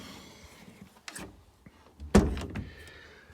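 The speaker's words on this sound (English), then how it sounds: "Door is shut" The door of an old 1931 Swedish cabin swings and bangs shut with a solid, close thump, followed by a brief rattle of the latch, after softer creaks and shuffling.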